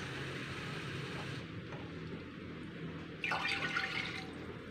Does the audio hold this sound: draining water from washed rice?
yes